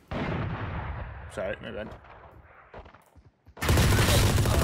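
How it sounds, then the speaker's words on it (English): Gunfire in the Valorant video game, a loud burst of shots opening and a heavier barrage closing, separated by a short spoken apology and a quiet gap. "See how all my bullets just traced against it."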